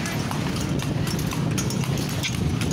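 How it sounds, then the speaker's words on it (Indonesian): A horse pulling a delman carriage clip-clops along at a steady trot, hooves knocking in a quick continuous rhythm under road and wheel noise, close and fairly loud. "Naik kuda."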